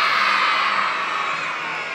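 A crowd of school children cheers and shouts at a Friday flag assembly, a dense, steady roar of young voices close by, holding at full level for the whole stretch with no clear pauses.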